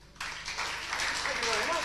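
Audience applause for a performer named Ben at a live 1995 stage show at The RCH, a broad burst of clapping that starts abruptly and holds steady and fairly loud, with voices mixed in.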